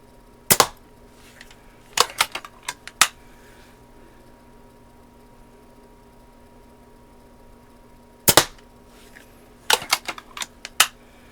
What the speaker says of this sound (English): Shoot the upper right-hand target, and we'll go take a look and see how we're doing.